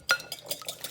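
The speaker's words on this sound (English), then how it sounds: "start to beat the eggs" Three eggs with melted butter beaten in a bowl, a quick series of light clinking and tapping strokes from a utensil, close and fairly quiet.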